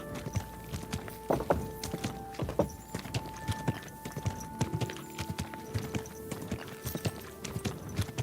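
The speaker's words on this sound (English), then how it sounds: "Easy, good horse" Horse hooves clip-clopping at a walking pace in the video game Kingdom Come: Deliverance II, close and steady, with a few heavier thuds and thin sustained tones running underneath.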